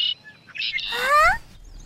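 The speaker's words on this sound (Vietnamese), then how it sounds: "Cậu xem chim hỏa mê kìa." A bird in a Buddhist animated film gives a short rising, warbling chirp, preceded by a few brief high tones. It stands alone, moderately loud, with no talk over it.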